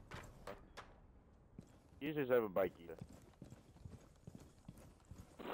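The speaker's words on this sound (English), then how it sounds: "I could hear footsteps from office." Footsteps in the video game Rainbow Six Siege patter in quick, light steps, with a person's voice speaking briefly over them in the middle.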